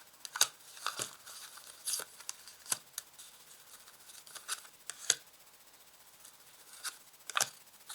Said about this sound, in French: Alors maintenant je vais placer 5 cartes